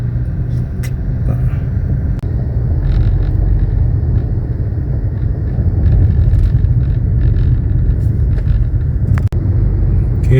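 Traffic on the C5 road in Manila heard from inside a vehicle, a steady loud engine and road rumble with a few faint clicks and knocks, no talking.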